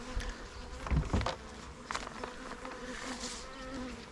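Honey bees buzzing around a hive, a dense, close swarm drone with individual bees passing near the microphone.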